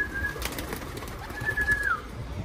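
Young pigeons on a city street give a couple of brief, faint coos and calls over a steady low outdoor hum of traffic, with no one talking.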